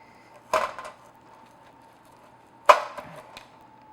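A knife slices through a raspberry crostata with a soft jam filling, making two sharp, close cutting contacts about two seconds apart with a quiet pause between them.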